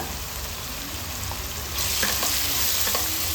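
Spice powders (coriander, turmeric and red chilli) frying in hot oil for a spiny gourd gravy, a steady close sizzle that grows louder partway through as they are stirred, with a few scraping taps of a spoon.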